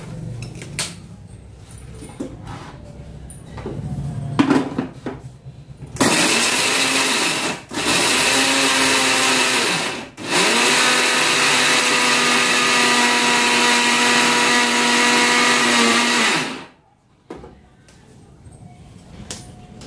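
A kitchen mixer grinder grinds 4 to 5 cardamom pods in loud, close bursts of high whirring, starting after some handling clatter, pausing briefly twice, then running for about six seconds before stopping.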